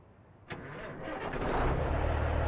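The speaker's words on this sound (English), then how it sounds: "let's jump in and hear the beautiful engine in this thing" A Freightliner FLB truck engine in American Truck Simulator cranks with a sharp click, then catches and rises into a steady, loud idle rumble, with no talking.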